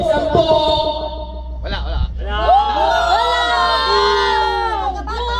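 A small crowd, many of them children, cheers and whoops for a contestant named Boy Sambo at a local contest, after a short spoken question, with loud overlapping shouts.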